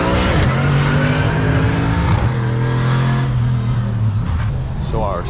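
A Nissan car makes a loud, close timed speed-stop run at an autocross, its engine droning steadily with shifting pitch, then easing off near the end with a brief tire squeal.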